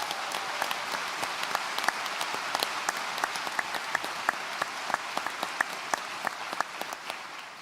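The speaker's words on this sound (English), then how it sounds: "Let's give her a round of applause." Sustained audience applause at a university graduation ceremony, steady dense clapping with sharper individual claps standing out, continuing evenly throughout without talk.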